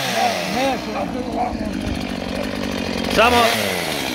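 A chainsaw runs nearby with a rough buzzing engine drone, revving up and down in a couple of surges, while a voice talks over it.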